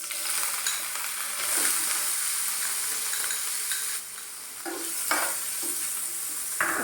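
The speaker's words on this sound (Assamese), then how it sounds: "প্ৰথম পনীৰখিনি অলপ ভাজি ল'ম।" Paneer fries in half a spoon of ghee over medium heat and is stirred, making a soft continuous sizzle with scraping strokes and brief dips in level, and no talking.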